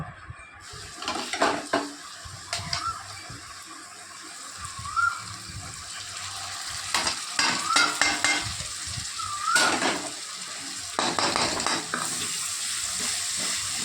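Grated onion with ginger, garlic and green chilli paste frying in a pan, a steady sizzle running throughout with repeated spoon scrapes and clinks against the pot, fairly close.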